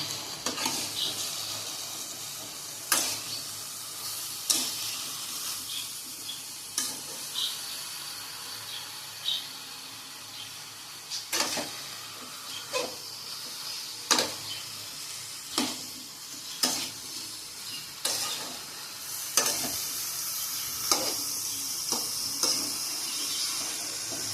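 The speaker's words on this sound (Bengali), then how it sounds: "এবারে এটাকে আমি ভালো করে নেড়ে চেড়ে নেবো" Chopped bottle gourd greens with ginger and green chili stirred in a hot pan: a steady sizzle runs throughout, broken by repeated sharp spatula scrapes and clacks at an uneven rhythm, close and clear with no talking.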